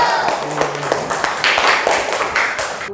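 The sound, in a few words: class clapping hands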